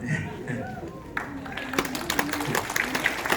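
Conference delegates at a city event burst into applause and cheers, a sudden wash of clapping rising after a speaker's voice and continuing steadily to the end.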